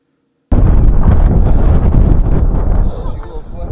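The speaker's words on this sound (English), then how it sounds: "Check out how windy it had gotten at this point." Loud, buffeting wind roars against the microphone in heavy, continuous gusts after a brief silence, easing slightly toward the end, on the hilltop at Mow Cop Castle.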